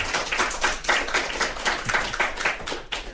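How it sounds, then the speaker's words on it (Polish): A studio audience at a Polish live talk event claps in a short, uneven burst of hand claps, fairly close and with no speech over it. "Jak przywitacie się oklaskami, to nasi słuchacze będą mieli jakąś świadomość, ilu was tutaj przyszło."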